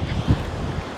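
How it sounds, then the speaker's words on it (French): Strong coastal wind buffets the microphone in a dense, continuous roar, with a brief louder gust thump partway through and no voices. "il y a beaucoup de vent"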